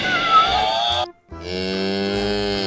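A blue toy cow gives two loud electronic moos, the first wavering and the second steady and buzzy, separated by a brief silent gap.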